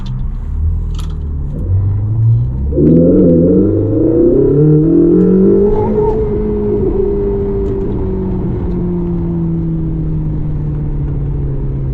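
A Ferrari 488 GTB engine rumbles and then revs hard, its pitch climbing steadily through a sustained loud acceleration before holding at a high, steady drone. It is close, loud and continuous, with no talk.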